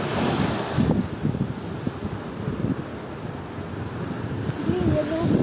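A storm at sea in Yalta sends large waves crashing, with a roaring rumble of surf and gusting wind buffeting the microphone; a voice speaks briefly near the end.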